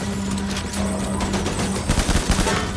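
Automatic gunfire from an assault rifle in the Death Stranding video game, a dense run of rapid shots over a constant hum, loud and continuous, with no talking.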